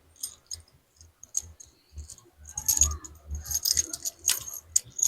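A bunch of keys jangling while someone searches for a key near a coin-operated piso wifi machine, with sparse metallic clinks at first, then a denser burst of rattling and jingling, close and fairly quiet.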